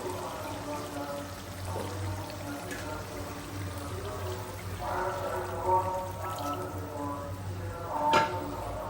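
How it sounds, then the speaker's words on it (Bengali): Water poured into a pot of braised chicken with small diced potato pieces, a soft sustained pouring wash with a couple of louder splashes toward the end, heard fairly close. "মুরগিটা ভালোভাবে কষানো হয়ে গেছে, আমি এখানে পানি দিয়ে দিব।"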